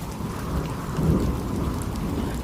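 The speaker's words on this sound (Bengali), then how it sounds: "চারপাশ দিয়ে ঝড়ো হাওয়া বইছে, বাহিরে ঝিরঝিরি বৃষ্টিও পড়ছে।" Steady rain with rumbling stormy wind in a cartoon soundscape, a continuous dense hiss with a low swelling gust around the middle, no voices.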